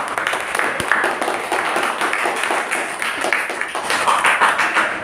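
A classroom of students claps for the groups who presented, a moderately loud, slightly uneven patter of hands lasting several seconds, with a faint voice mixed in.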